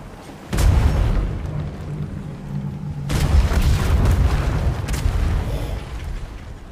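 Two heavy booming cannon broadsides fire from a sailing ship in the pirate video game Atlas, each a loud thud followed by a long rumbling tail, a few seconds apart.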